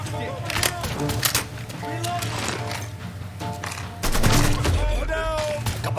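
Rapid bursts of gunfire in the video game Mafia 3: Definitive Edition, loud cracking volleys repeating through the scene, with voices talking over the shooting.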